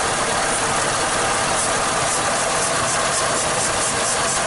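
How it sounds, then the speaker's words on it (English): Chevy Malibu engine idling while running lean, heard up close as a steady mechanical drone with a light ticking, rattling texture and no pauses. "You can hear the way the engine is running."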